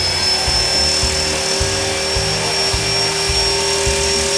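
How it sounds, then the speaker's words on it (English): A radio-controlled model helicopter's rotor spinning steadily at speed, a loud continuous whirring hum with a regular pulsing beat and a high motor whine, no voices. "all helicopters will spin until they get up to speed"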